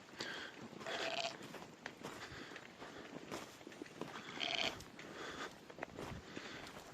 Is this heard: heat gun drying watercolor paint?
no